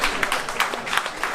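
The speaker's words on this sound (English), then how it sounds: "So a round of applause." Brief burst of audience applause at a video game showcase event, a crowd clapping steadily and fairly close, with no voices over it.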